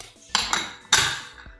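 A pressure cooker holding rice, milk and sugar is shut and set on a kitchen stove. Three sharp metallic clanks ring out close up, the last the loudest, with quiet pauses between them.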